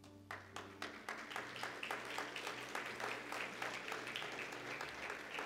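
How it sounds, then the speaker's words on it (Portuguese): A church congregation applauding during a Portuguese-language sermon, quiet and somewhat distant, starting with a few separate claps and then building into rhythmic clapping as low hum and chatter continue underneath. "Aplaudi porque tem gente dormindo"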